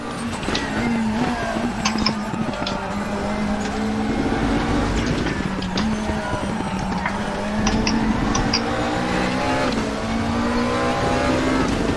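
McLaren 650S GT3 race car in the RaceRoom game at Suzuka, its engine droning steadily at high revs with shifting pitch sweeps and brief tire noise throughout, loud and continuous without talk.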